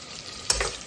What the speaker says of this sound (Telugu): ఫస్ట్ ఆనియన్స్ వేసాను. ఆనియన్స్ కొంచెం గోలాలి